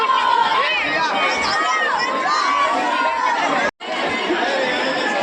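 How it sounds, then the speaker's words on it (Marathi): A dense crowd chatters loudly at Ekvira temple, many overlapping voices and children shouting, continuous and close with a brief dropout near the end. "तुम्ही गर्दी बघू शकता किती आहे"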